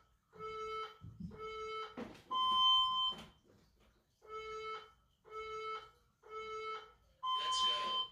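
A workout interval timer beeps in a repeating pattern of short electronic tones, with several evenly spaced beeps, some longer higher-pitched ones, and a low voice briefly between them.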